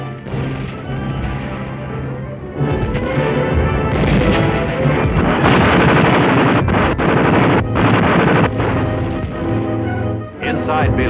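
Heavy gunfire rings out through the attack on Bilibid prison in Manila, with dense bursts of machine-gun and rifle fire and booming impacts that go on almost without a break and grow louder after the first few seconds.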